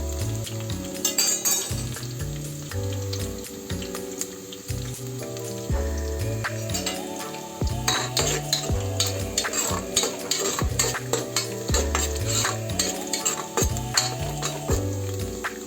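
Onions fry in a pan until brown for a chicken sambar, a constant sizzle broken by the scrape and clink of a spoon stirring against the metal, with music playing underneath and no voices.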